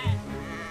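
A single short sheep bleat from the World War I video game Valiant Hearts: The Great War, brief and fairly close, over a steady backdrop of game ambience.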